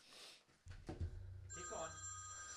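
A telephone bell rings, a sustained electronic trill starting partway through and continuing to the end, following a voice.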